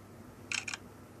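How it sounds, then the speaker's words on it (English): Two quick, faint clicks from the shutter of a Jolla smartphone camera in a quiet room, the second following closely after the first. "Let's see how quickly the shutter acts."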